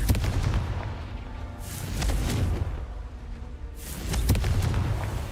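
Confringo blast spells in Hogwarts Legacy going off as two loud booming bursts with crackling tails, separated by a quieter rumbling gap, no voices.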